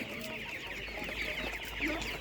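A broiler chicken clucks at an outdoor animal market, soft repeated clucks and murmurs under a steady background of market noise.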